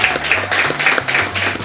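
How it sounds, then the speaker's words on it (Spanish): Studio audience applause at a TV show, steady dense clapping from a crowd that pulses slightly across its short length, loud and close. "Le damos un aplauso a ambos, por favor"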